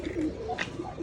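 Pigeons cooing close by in a short burst of soft, low rolling coos amid faint background noise.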